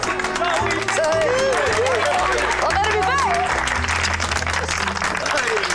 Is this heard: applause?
yes